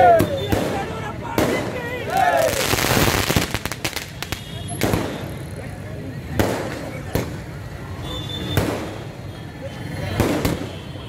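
Firecrackers set off in Karnataka to celebrate a new chief minister taking office pop and crack in irregular bursts, some loud and close, with a crackling flurry early on and voices in the background.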